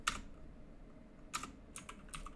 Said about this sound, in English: I don't know why it's taking so long to type